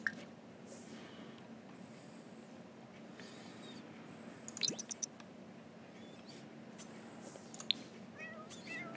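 A cat in the video game The Sims 4 gives a few soft, faint meows over a quiet, steady background hum, with short gaps between calls.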